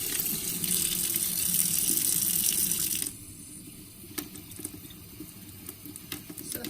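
Warm water streams from a bathroom tap into a sink, with a steady hiss that changes tone as a makeup brush is pushed under it. Softer splashing and dripping follow.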